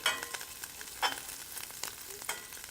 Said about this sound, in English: I'm going to check on my bacon here. Hear it sizzling away.